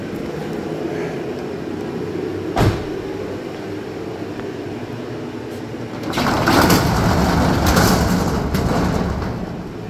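A Honda Civic EK with a D16Z6 VTEC engine driving, heard from inside as a steady broadband engine and road rumble with a sharp knock near the start and a louder, rougher surge of engine noise in the last few seconds.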